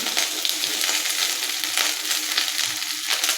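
Chopped okra (bhindi) sizzles in half a spoon of oil in a hot kadhai, a constant crackling fry with faint stirring scrapes, close and steady with no talking.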